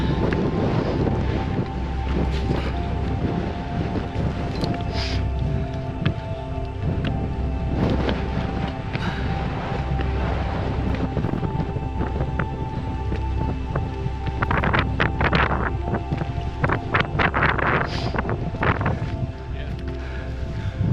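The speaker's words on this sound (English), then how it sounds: "It's about 30-mile-an-hour winds now." Strong gusting wind of about 30 miles an hour on a mountain hike in Iceland buffets the microphone with a constant low roar and sharp gust bursts throughout.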